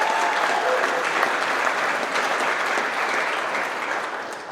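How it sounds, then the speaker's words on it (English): A crowd at a Melton Truck Lines monthly celebration applauds honored employees, a loud, full round of clapping that carries steadily and fades slightly at the close. "Let's give these guys a round of applause."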